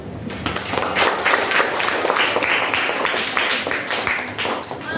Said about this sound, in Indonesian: Kita kasih tepuk.